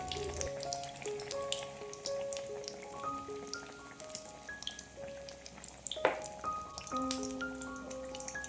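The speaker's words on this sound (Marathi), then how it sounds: "याच पद्धतीने आपण उरलेले सगळे पालक पनीर पकोडा तळून घेऊया." Palak paneer pakoras fry in hot oil over medium heat with a soft, steady crackling sizzle and scattered pops, fairly quiet and close.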